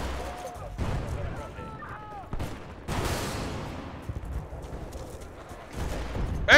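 Gunfire and grenade blasts in the video game Battlefield Bad Company 2, bursts of shots and a loud broad explosion around the middle, with players talking over the fighting.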